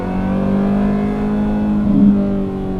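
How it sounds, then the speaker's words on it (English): A Ferrari F355 Berlinetta engine with a Capristo full exhaust, valves open, idles with a deep, steady rumble, then briefly swells in a short rev before settling back. "let's open up the valves. Got a Capristo full exhaust"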